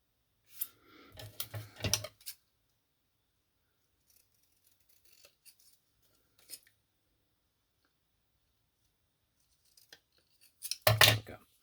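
Scissors trimming the edge of a paper card, bursts of close crisp snips early and again near the end, with quiet paper handling between them.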